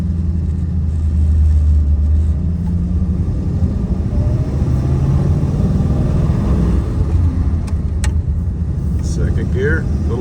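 A 1940 Ford Deluxe Tudor sedan with a three-speed column shifter pulls down a neighborhood street in first gear, its engine rumbling low and steady throughout with faint clicks near the end.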